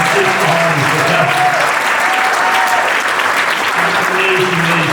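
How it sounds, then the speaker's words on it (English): An audience at a retirement recognition event claps continuously and loudly throughout, a dense, even applause with no pauses. "So can we just give a round of applause?"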